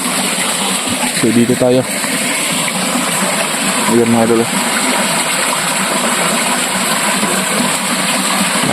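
Water rushing through a runoff channel after heavy overnight rain, a steady, loud broadband gush that never lets up, with someone talking briefly over it.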